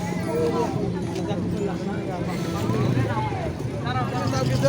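A boat moves across Hasaigari Beel, a wetland lake in Bangladesh, with a steady low engine-like rumble and wind buffeting, while people talk over it throughout.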